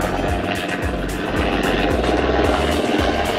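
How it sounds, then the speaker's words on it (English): A loud helicopter thumps overhead with a rapid, steady rotor beat and a heavy engine drone that fills the air. "Gosh, that thing is a loud helicopter."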